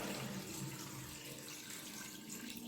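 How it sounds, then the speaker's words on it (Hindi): Water pours steadily into a pressure cooker for goat head and trotters in a continuous splashing stream, close by and fairly soft, with no talking. "डालूंगी 4 गिलास पानी"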